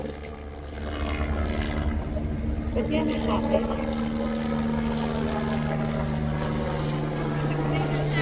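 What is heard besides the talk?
helicopter flying overhead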